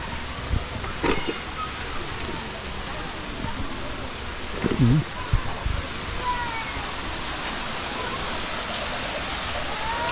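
Steady rushing roar of the waterfall at Catmon Falls in Magallanes, Cavite, filling the scene continuously, with a few brief louder knocks and rustles near the recorder.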